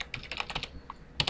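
Quick bursts of keystrokes on a computer keyboard entering a command, clicking close and clear in a brief irregular flurry with a short pause before the last couple of taps.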